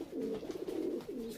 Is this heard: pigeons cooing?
yes